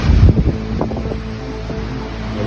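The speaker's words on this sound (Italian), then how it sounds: "Ninguém consegue andar, tão forte que o vento tá." Strong storm wind in São Paulo buffets the microphone with loud, steady roaring rumble, a few heavier gusts and thumps near the start, then a constant blustery drone throughout.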